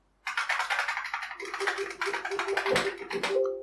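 Fast typing on a 1990s buckling spring mechanical keyboard, a dense run of loud, sharp, clattering key strikes close to the microphone, with a faint tonal hum appearing partway through.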